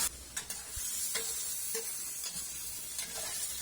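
Marinated liver for menudo sizzles in a hot pan, a steady close frying hiss with a few faint stirring taps and no talking.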